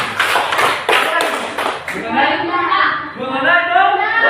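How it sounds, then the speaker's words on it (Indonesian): Schoolchildren in a classroom clap their hands in a quick rhythmic pattern of sharp bursts, then the children's voices take over and the claps stop. "Ya, tepuk tangan"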